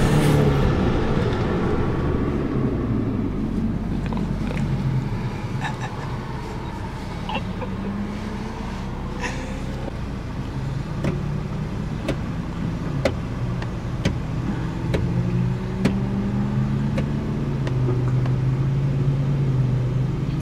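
Car engine of a Chevrolet Impala SS driving and accelerating hard in a street race, a steady low roar with rising and falling pitch sweeps as it revs through gears, close and continuous with no talk.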